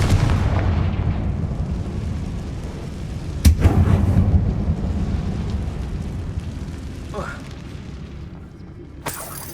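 A Confringo fire spell blasts inside a closed mine tunnel in the Hogwarts Legacy video game, a sharp booming burst that rumbles and fades amid layered game sound, followed by a later brief crack.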